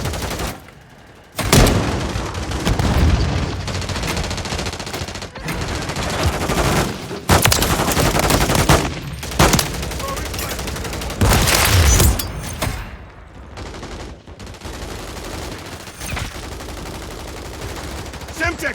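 Akimbo shotguns in Modern Warfare 3 blast in loud, rapid volleys with heavy booms, stuttering bursts and brief pauses, with game voices called out between shots.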